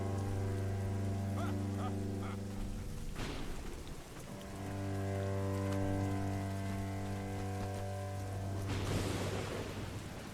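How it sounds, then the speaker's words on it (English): Steady synthetic rain hiss from the PS3 game Of Orcs and Men blends with a droning game soundtrack, with a louder burst of rainfall near the end. "Like the rain effects are pretty decent."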